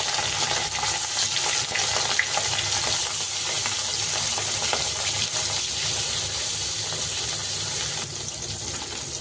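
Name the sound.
katla fish pieces frying in hot oil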